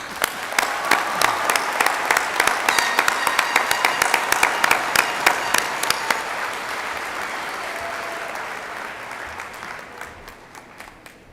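Commencement crowd applauds graduates of a college of arts and sciences, starting as loud, distinct individual claps near the hall and thinning into a softer, fading patter over the last few seconds.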